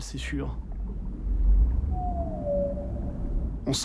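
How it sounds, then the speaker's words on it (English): A whale's drawn-out tonal call sliding slowly downward, heard underwater near a submerged capsule at night over a low rumbling hum, with brief talk at the start and end. "In the middle of the night, the whales come right up to the capsule."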